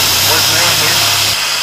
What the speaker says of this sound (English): pull off vacuum line, engine's going to idle up.